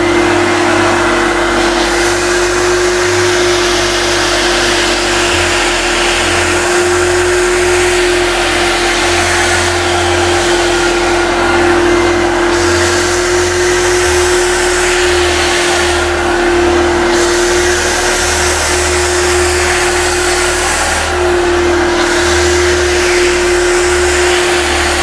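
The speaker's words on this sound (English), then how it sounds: "We've got the steam here which we activate with the trigger, and also the vacuum here activated by the button on the back." An Ivo Steam Tekna steam cleaner runs with its vacuum on, giving a loud, steady whining drone with a constant motor hum that continues without pause.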